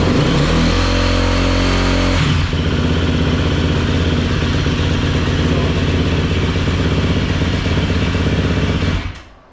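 A cold KTM motorcycle engine idles steadily as it warms up after an oil change, a loud, close, continuous rumble with a brief rev near the start, cutting off abruptly at the very end.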